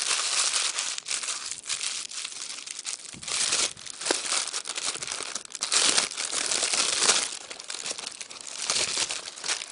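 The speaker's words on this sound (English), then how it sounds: "Something that I always do with my parchment paper is I just like to kind of crinkle it up a little bit" Parchment paper is crumpled and crinkled by hand, a close, loud run of crackling rustles coming in uneven bursts with short pauses between handfuls.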